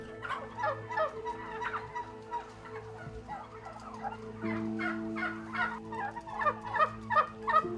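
A crowd of turkeys gobbling and chattering over a constant low mechanical hum, many birds calling at once inside a crowded shed.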